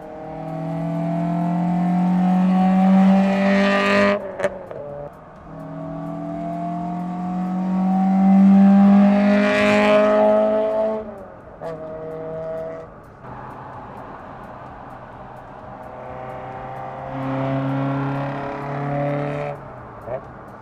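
A Toyota car engine revs up repeatedly, rising and falling in pitch through several bursts, close by, with brief idle pauses between throttle blips.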